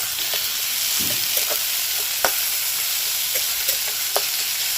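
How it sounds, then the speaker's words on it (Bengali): Two medium onions, chopped very fine, fry in a pan with a steady, close sizzle and crackle, plus a few sharp ticks of stirring. "মিডিয়াম সাইজের দুখানা পেঁয়াজ আছে একদম ছোট ছোট করে কাটা এবার একসাথে সব কটা ভেজে নেবে"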